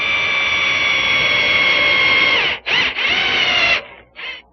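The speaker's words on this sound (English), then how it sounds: "Now I'm going to go to a slightly bigger drill and just enlarge the hole in the post." A power drill spins loudly and close up as a slightly bigger bit enlarges a hole in the wooden post of a Windsor chair, whining steadily for over two seconds, then stopping and restarting in short bursts.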